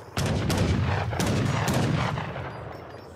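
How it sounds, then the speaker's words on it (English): Cannons in Age of Empires III fire in a cluster of sharp booming shots, several blasts close together in a battle, followed by a fading rumble. "And now two cannons"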